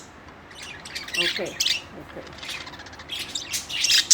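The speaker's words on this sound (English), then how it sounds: "Oh, the Budgies are cute." Pet budgies chirp and squawk in quick bursts across the clip, close and fairly loud, with a brief spoken word in between.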